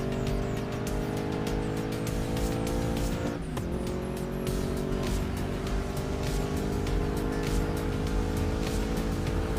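Race cars in the GRID Legends racing game roar loudly and continuously as engines rev and accelerate, with tire squeal and a brief dip midway before the engine note climbs again.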